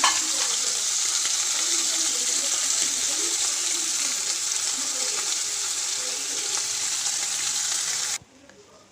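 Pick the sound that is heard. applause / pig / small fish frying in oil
small fish frying in oil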